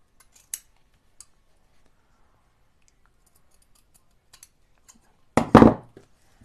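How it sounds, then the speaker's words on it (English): Ribbon scissors snip through ribbon in a few sharp cuts close by, starting with a single faint snip and ending in a louder, brief burst of cutting, with quiet ticks in between and no speech. "Ribbon scissors have run away. Here they are. They haven't run too far though. Just going to cut those two bits off."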